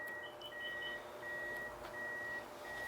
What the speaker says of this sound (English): I hear my backup sensor going crazy.